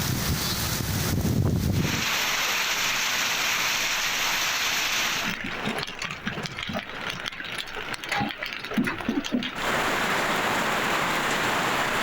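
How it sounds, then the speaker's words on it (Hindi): Steady rain falls in a city in Pakistan during a storm with strong winds, a dense continuous hiss with scattered patter and drops, wind rumble at the start. "मुल्क के मुख्तलिफ शहरों में बारिश और ज़ालाबारी।"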